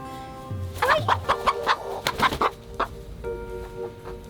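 A pet backyard chicken clucks in a quick series of close, loud, pitched calls, with a few softer clucks trailing off near the end.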